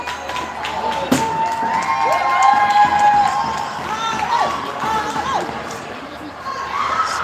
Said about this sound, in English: Some good love from this line out there, cheering her on.